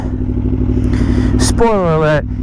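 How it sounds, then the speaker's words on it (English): A 2022 Aprilia Tuono V4 Factory motorcycle with an Akrapovic slip-on exhaust idles with a steady low rumble, then revs sharply once, rising and falling, loud and close. "this exhaust is wonderful. It ain't too loud."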